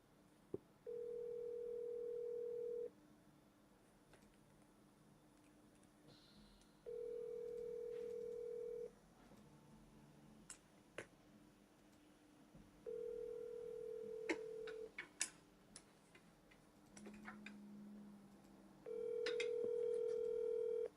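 Outgoing telephone ringback tone on a call, steady tone bursts of about two seconds repeating four times with pauses between, some faint background noise, no talking.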